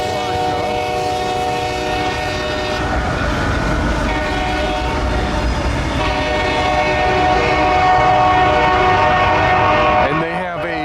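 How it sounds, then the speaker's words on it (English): Five CSX railway locomotives idling and moving in Folkston, Georgia, with a loud sustained train horn blaring over heavy diesel engine rumble, close and continuous, the horn trailing off near the end. "We got 5 locomotives here."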